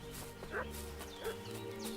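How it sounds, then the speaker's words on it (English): A dog in Kingdom Come: Deliverance II barks a few times at a moderate distance, short sharp yelps amid game ambience and low background sound. "What's that dog making such a fuss about?"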